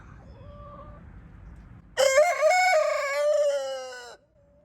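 A rooster crows once, very close and loud, right at the listener's ear, a long strained call lasting about two seconds after a quiet start.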